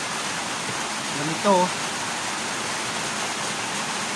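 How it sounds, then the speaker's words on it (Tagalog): Heavy rain pours down in a steady, dense hiss that fills the whole clip, with a person briefly speaking over it. "Pasensya na kayo, malakas ang ulan."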